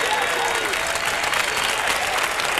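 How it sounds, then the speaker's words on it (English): A crowd at the 1991 ultimate frisbee world championship men's final in Toronto applauds and cheers loudly, a dense, continuous roar of clapping and voices over a few seconds. "Crowd very excited. Everybody's on their feet."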